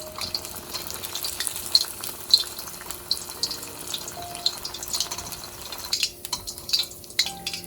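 Beer-battered fish sizzles and bubbles in a deep fryer, a steady crackling hiss with small pops and splashes, fairly close, with no talk.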